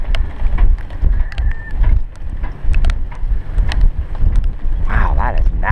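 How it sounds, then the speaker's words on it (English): A strong cold wind buffets an anchored sailboat off a lee shore, with steady roaring gusts and rumble against the microphone and hull as people talk. "That is cool, cool wind."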